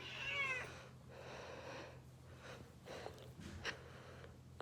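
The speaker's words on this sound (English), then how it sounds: "Most demanding cat in the world right here." A grumpy, demanding house cat gives a short meow at the start, followed by quiet snorts and breathy huffs, close and soft against a low background hum.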